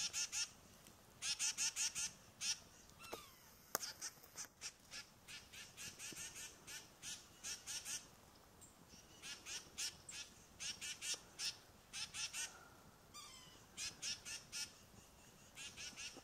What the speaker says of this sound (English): These birds are so cool.